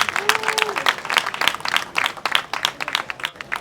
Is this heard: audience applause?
yes